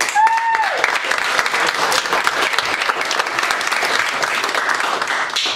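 Audience at an improv comedy show applauding a team, dense steady clapping that fills the room, loud and continuous, with a brief whistle at the start.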